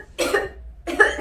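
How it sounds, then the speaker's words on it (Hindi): A woman coughs twice, close and loud, with two short harsh bursts separated by a brief pause. "अरे मम्मी जी, क्या हुआ आपको? खांसी आ रही है?"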